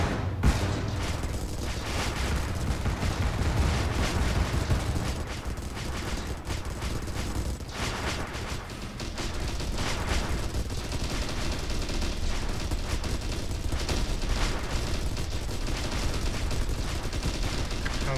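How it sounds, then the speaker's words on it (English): Massed bomb salvos and weapons fire in the space strategy game StarDrive make a dense, continuous barrage of booms and crackling blasts, loud and sustained throughout with no clear breaks. "Oh, huge salvos of bombs, though."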